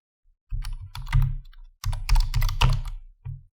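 Rapid keystrokes on a computer keyboard while code is typed in the Swift programming language, close and fairly loud, coming in two dense bursts with a short pause between and a final few taps.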